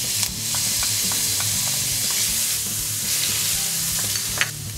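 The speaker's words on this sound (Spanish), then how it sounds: "En un poco de aceite en una sartén rehogamos el jengibre y el ajo." Ginger and garlic sauté in a little oil in a frying pan, giving a steady close sizzle with a few soft stir clinks over the whole stretch.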